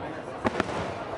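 Two sharp booms of New Year's Eve fireworks in Sydney, Australia in quick succession, somewhat distant, over a faint background hum.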